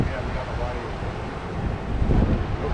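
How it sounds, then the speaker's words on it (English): Coastal wind buffeting an outdoor microphone: a steady, close rumble of broadband noise that swells toward the end, with no clear talking. "Wind's not too bad."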